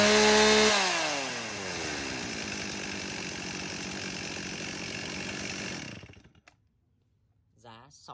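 A used Stihl 026 chainsaw, a 49 cc original-condition German import with a .325 chain, roars loud and close, drops from a high rev to a steady running drone, then cuts off, followed by a voice speaking.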